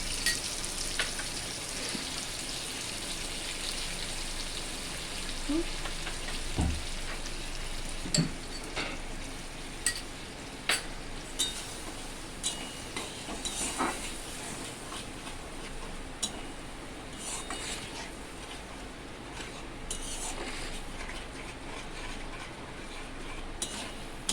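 Masala paste sizzles and spits in hot oil with tomato and pointed gourd, a steady close frying hiss broken by scattered ticks and small pops from stirring, with no voices.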